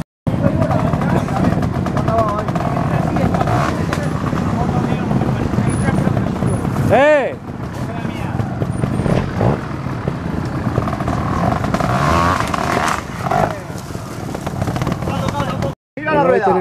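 Trial motorcycle engine at an outdoor trial event, revving and roaring close by in bursts with a rising whine, under continuous commentary from someone talking.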